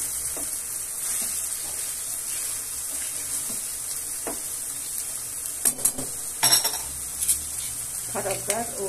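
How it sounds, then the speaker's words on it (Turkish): Spinach and eggs fry in a pan with a steady sizzle while being stirred, with scattered scraping and clinks of a utensil against the pan toward the end. "Ben birazcık karıştırıyorum."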